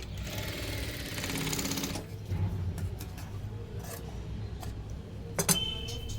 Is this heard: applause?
no